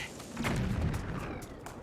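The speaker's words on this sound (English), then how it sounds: "They explode on contact with fire." Explosion in The Legend of Zelda: Skyward Sword, a fairly faint, muffled boom with a rumbling low tail lasting under two seconds, heard alone without speech.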